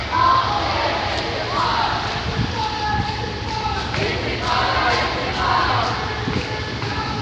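A high-spirited crowd marching for Gaza in San Francisco in light drizzle, chanting and shouting together in loud rolling waves close by, with the voices rising and falling.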